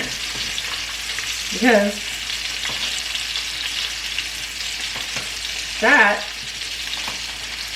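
Butter sizzles and fries in a hot pan with a ribeye steak, a steady crackling hiss throughout with two brief louder surges; a voice speaks briefly.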